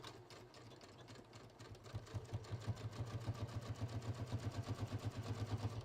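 Sewing machine stitching a pants front pocket, starting slowly and speeding into a rapid, even mechanical chatter of stitches, close and loud with no talk.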